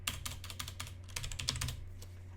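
Rapid keyboard typing on a Windows computer while entering a MySQL connector pip install command, a steady patter of crisp key clicks over a low hum.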